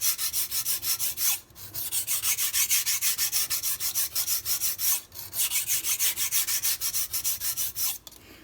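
A MAC chef knife being sharpened, its blade drawn in quick, evenly rhythmic rasping strokes, close and clear, broken by brief pauses roughly every few seconds before the strokes resume.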